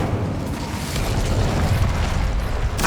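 The Incendio fire spell going off in Hogwarts Legacy: a loud, sustained roaring whoosh of flame with rumbling low boom, continuous for nearly three seconds and ending with a sharp burst.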